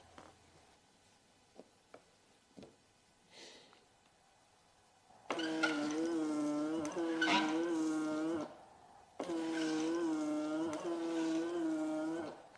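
A Mercedes-Benz W140 windshield wiper motor runs during a bench test, giving a loud steady electric whine with a strong harmonic hum in two sustained stretches, separated by a short break, after a few faint clicks.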